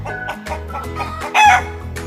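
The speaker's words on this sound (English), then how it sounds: "chicken," A chicken clucks in a short series of close, loud, chattering calls with a louder squawking burst near the end, heard alone.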